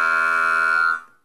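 A sustained, buzzy talk box synthesizer tone with rich harmonics holds steady for about a second, then fades out quickly.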